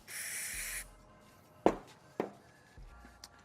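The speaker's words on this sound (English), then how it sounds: "So we're just going to liberally spray that out and work it around in there." Spray cleaner hisses briefly from an aerosol can into a bicycle linkage bearing to flush out gunk, followed by a few sharp taps and light scraping sounds from close by.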